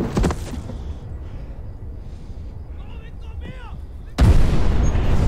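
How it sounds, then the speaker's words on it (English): Gunfire and explosions from a TV drama scene boom and crackle amid a sustained rumble, with a loud burst near the end and people talking over it. "you get all this gunfire and explosions"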